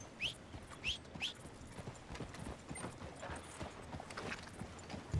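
Horses' hooves clip-clop on the ground in Red Dead Redemption 2, a loose rhythmic run of soft thuds under faint whistling tones and quiet ambience, no talk.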